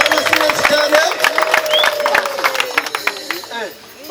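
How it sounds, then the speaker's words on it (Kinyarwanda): A crowd at a Rwandan wedding claps in quick, uneven bursts under a sung or chanted voice, the applause close and lively with some shouting mixed in. "amashyi menshi cyane"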